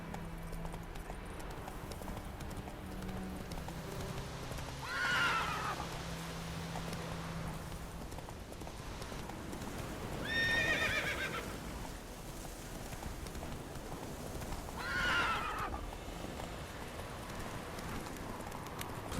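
Roach, Geralt's horse in The Witcher 3 video game, lets out three distinct whinnies spaced about five seconds apart, over a steady clip-clop of galloping hooves and light rain in the background.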